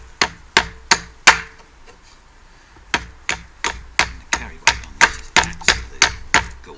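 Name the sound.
sharp knife chopping hard wood on a chopping block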